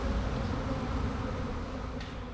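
Honeybees buzz in a dense, steady drone around hives that have been split, close and continuous throughout.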